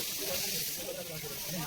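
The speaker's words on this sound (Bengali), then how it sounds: "এই যে মাছ ভাজছে আমাদের জন্য সব।" Fish fries in hot oil at a roadside food stall, giving a faint, steady sizzling hiss throughout, with muffled voices in the background.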